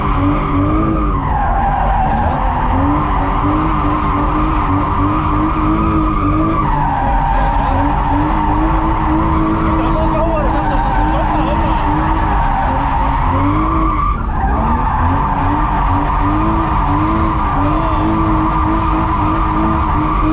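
A drift car slides with its tyres squealing loudly and continuously for about twenty seconds. The wavering shriek rises and falls as the slide changes, over a constant engine roar.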